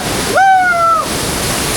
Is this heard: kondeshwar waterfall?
yes